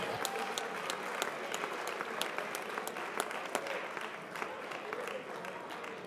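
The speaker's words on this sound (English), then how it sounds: "How about a round of applause one more time for all of our winners in today's competition?" Sustained, dense applause from an audience at a high school awards ceremony, steady clapping that fills the whole span with a crowd murmur underneath and no single voice standing out.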